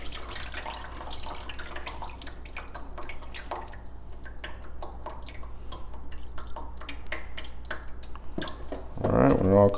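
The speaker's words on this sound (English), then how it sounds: "the water is going to come out" Water draining from a toilet tank, trickling and dripping steadily into a pan, close by, with a louder splashing gush near the end and a voice talking over it.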